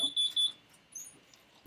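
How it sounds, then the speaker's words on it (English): A home security alarm chimes when a door is opened, giving a few short bright electronic beeps in quick succession. A fainter tone follows after a short pause, then an abrupt loud burst cuts in at the end. "Security alarm."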